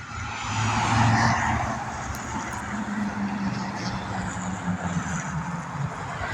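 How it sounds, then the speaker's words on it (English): Heavy road traffic on Ogden Avenue rumbles past nearby, with a louder vehicle swelling close by early on, then a steady wash of engines and tire noise. "Pretty heavy traffic here today."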